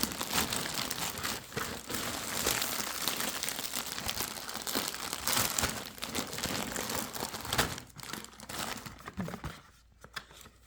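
A delivered online-marketplace package being opened by hand, with steady close crinkling and tearing of plastic wrapping that continues for several seconds before thinning out near the end.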